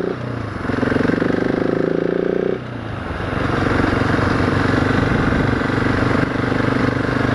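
A 2018 Husqvarna 701 SM single-cylinder motorcycle pulls hard under throttle, a close engine drone that drops briefly at a gear change and then builds again, steady and loud without talk.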